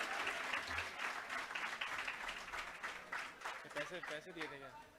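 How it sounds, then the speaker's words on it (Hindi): A classroom crowd claps loudly for a history teacher, a steady burst of applause that thins out near the end as a voice and some laughter come through. "एक बार भरत सर के लिए भी जोरदार तालियां।"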